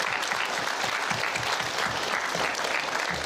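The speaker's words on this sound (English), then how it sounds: "We're going to give you guys a big clap." Students at a school assembly clap together in a loud, sustained burst of applause that fills the hall for several seconds, with no voices standing out.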